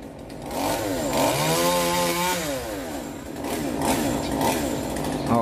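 A chainsaw cuts a branch of an old bodhi tree at a temple in Dong Nai, its engine a loud continuous snarl that rises and falls in pitch as the blade works through the wood.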